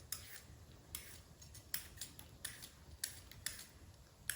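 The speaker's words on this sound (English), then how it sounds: "We're just using a potato peeler" A potato peeler scrapes along a cucumber in repeated short, crisp strokes, roughly two per second, faint and close with no voices.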